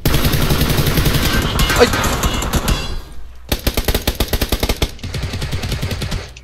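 Rapid automatic gunfire in the battle royale game PUBG, loud sustained bursts followed by a run of sharp evenly spaced shots after a brief pause, with a short exclamation from a player over the shooting.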